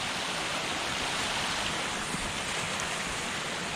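A waterfall pours into a large pool at a cave entrance on a spring day, a steady, dense rushing of water that is close and continuous and has no talk over it.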